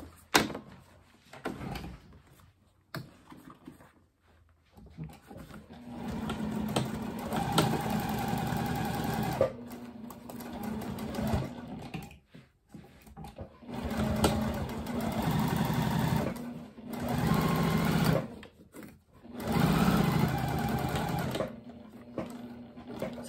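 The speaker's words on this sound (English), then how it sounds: "I'm going to sew at a 1/4 inch seam allowance around the whole perimeter." A sewing machine stitches a 1/4 inch seam around the whole perimeter of a tall tote bag, running in several sustained bursts with brief pauses and handling noises between them, fairly close and steady.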